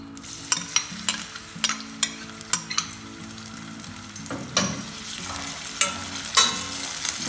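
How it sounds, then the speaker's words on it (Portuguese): Half an onion and garlic cloves sauté in a pan for fresh sardine rice, starting with a series of sharp spatula taps over a crackling sizzle that settles into a steadier frying hiss, close and without talk. "Colocar então a nossa meia cebola e 3 dentes de alho."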